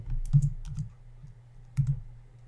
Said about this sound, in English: So let's type in Bromley